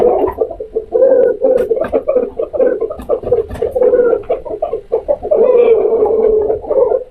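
Five roosters being fed pomegranate cluck and murmur close by in a continuous run of short, throaty calls, some rising into louder bursts, with no talk over them.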